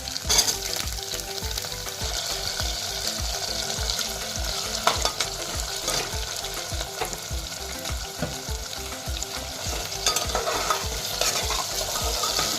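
Potato and tomato added to sautéed onion sizzle steadily in a pan on the stove, with a regular rhythmic scraping of a spoon stirring throughout and occasional light clinks of utensil against metal.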